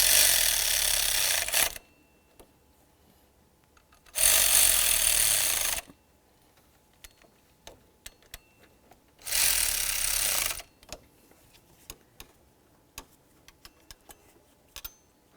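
Bolts on a Buick LeSabre water pump pulley are snugged down with a hand tool while the pulley is held still, giving three loud bursts of dense mechanical rattling, each about two seconds long, with quiet ticks and clicks between them.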